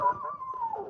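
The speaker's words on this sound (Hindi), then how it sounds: "डॉग जो है ना, ये भौंक रहा है ना" A dog gives a single short, drawn-out howl that slides gently downward in pitch, moderately loud against a quiet background.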